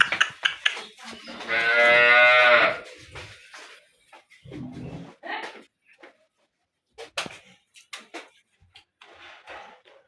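A local desi dairy cow gives one long, loud, nearby moo early on, followed by scattered faint knocks and shuffling sounds on a farm.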